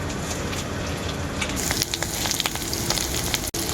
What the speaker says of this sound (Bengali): শশার সাথে খুব ভালো করে এরপর ভেজে নেব আমি পেঁয়াজ বাটাটা